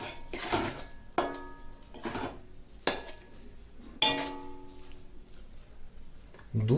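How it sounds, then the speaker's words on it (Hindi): A poppy seed laddu mixture stirred in a pan, with a spoon scraping and clinking against the metal in repeated strokes, loud and close, several sharp knocks ringing out between the stirs. "इसे मिक्स भी करते हुए चलना हमें।"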